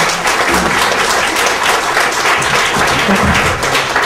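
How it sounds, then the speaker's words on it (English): An audience at a jailer and sheriff candidates' forum hosted by the Republican Party applauds, a steady crowd of clapping hands sustained loud and even for several seconds. "Let's give them all a big round of applause."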